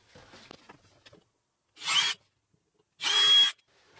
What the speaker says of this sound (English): So let's drill a couple holes and check.